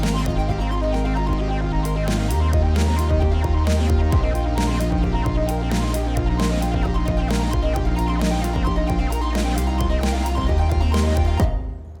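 A full song mix with loud, heavily distorted and compressed drums, dense and pumping. Hits pound steadily under the music and end abruptly after about eleven seconds.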